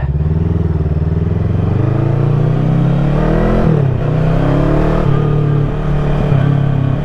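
Fekon motorcycle on a test ride, engine accelerating with a steady loud drone that rises in pitch, dips briefly at a gear change near the middle, then climbs again, close and continuous without talk.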